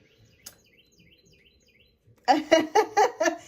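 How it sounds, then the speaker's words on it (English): Faint chirps from a bird outside a window come as soft, repeated short calls in a quiet room, then a person starts talking loudly over them. "I can't believe you guys can hear the bird chirping"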